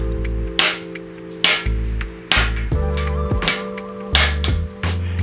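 Sharp metallic hammer blows on an aluminum block over a bolt on a 1981 XR80 motorcycle ring out about once a second, roughly six strikes, loud and close, over a steady low hum.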